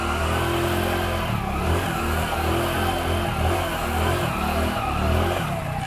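A 100cc motorcycle in first gear drifts in a tight zero-shaped circle on a smooth surface, its small engine revving and surging in waves, close and fairly steady with no talk.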